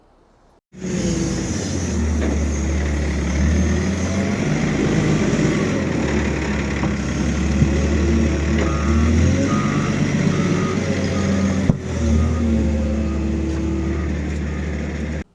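A tractor drives around a yard near a Mk1 Fiesta project car, its steady engine drone close and loud with a repeating high beep for about fifteen seconds, then cutting off abruptly.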